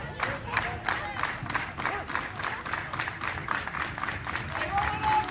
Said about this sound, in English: There's so much emotion in the background with the kids and their friends and their families cheering them on.